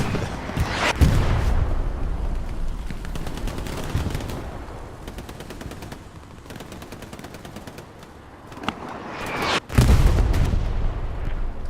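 Artillery shells and gunfire boom through a Hell Let Loose battle, with sharp heavy blasts near the start and end, rapid machine-gun bursts between them, and a constant rumble of distant combat.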